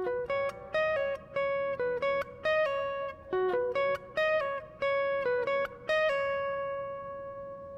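Lead guitar from a worship song, a short melodic line picked in a sweeping pattern: clear plucked notes with ringing harmonics in an even phrase, fairly close, alone with no talking.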